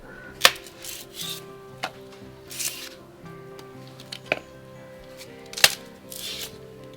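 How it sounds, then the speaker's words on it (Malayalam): A knife chopping young banana stem (vazhapindi) on a board for thoran curry, giving sparse sharp cuts and soft rubbing sounds in a quiet kitchen. "ഞാനിത് അരിഞ്ഞ് കറിയാക്കാൻ പോവുകയാണ്"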